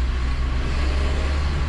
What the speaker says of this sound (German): ich drehe noch eine Runde, ich fahre hier bei mir gerade um die Halle rum